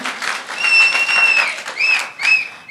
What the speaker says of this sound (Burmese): လက်ခုပ်ပြီးလက်ဖခင်ကိုချီးမွမ်းရအောင်